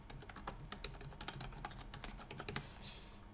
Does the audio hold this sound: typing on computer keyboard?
yes